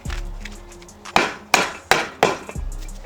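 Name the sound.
sledgehammer pounding a board to drive metal bed edging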